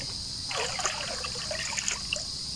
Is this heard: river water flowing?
yes